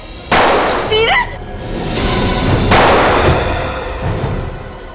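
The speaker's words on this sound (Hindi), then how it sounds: "गोली चलाओ, चलाओ गोली।" A gunshot in a Hindi TV drama scene, loud sharp bursts with a crack at the start and another heavy blast midway, ringing out amid background noise.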